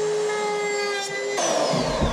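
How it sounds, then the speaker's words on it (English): A Dremel rotary tool with a small sanding attachment works wood inside a wooden boat's aft cabin. It makes a close, steady high whine that drops in pitch partway through, with no voices. "Dremel, little sanding Dremel on the end, just the perfect thing for in here."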